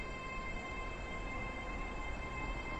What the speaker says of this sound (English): train now approaching platform 3